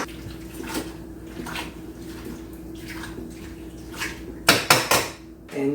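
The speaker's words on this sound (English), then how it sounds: "you can use your stirrer to press them down into the water" A stirrer presses collard greens down into water in a cooking pot, giving soft sloshing and scraping with a few sharp clanks of utensil against the pot near the end, close and fairly quiet.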